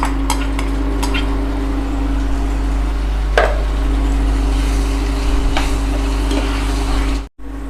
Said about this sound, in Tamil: இப்போ பன்னீர் வந்து சேர்த்து கிளறி விட்டாச்சு